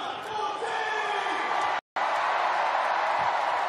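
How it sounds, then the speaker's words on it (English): A stadium crowd at a women's rugby sevens match in Hong Kong roars in a steady, dense wash of cheering and whooping, broken by one brief dropout, with a commentator's voice faintly underneath. "The crowd are loving this."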